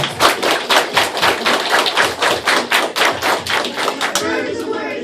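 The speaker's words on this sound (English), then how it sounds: "the first verb we're going to do is clap." Rhythmic hand clapping in a children's verb rap song, a quick, steady run of loud, close claps with a strong beat, roughly three per second, that stops abruptly near the end.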